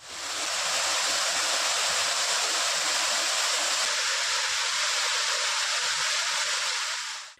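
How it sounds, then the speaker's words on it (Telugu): The Bhimunipadam waterfall near Seethanagaram in Mahabubabad district, swollen after heavy rain: a dense, steady, roaring rush of falling water, loud and unbroken throughout with no talk. "భీమునిపాదం జలపాతం భారీ వర్షానికి ఉప్పొంగుతోంది"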